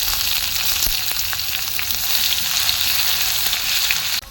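Dry red chillies, bay leaf, panch phoron and chopped onion fry in hot oil for a tomato dal, giving a steady, close sizzle with faint stirring clicks that cuts off abruptly near the end.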